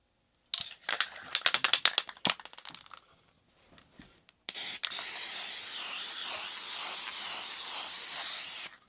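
Gorilla contact adhesive sprayed from a can onto the backing of a tufted rug, preceded by rattling and crinkling handling noises, then a loud continuous close hiss of spray lasting several seconds.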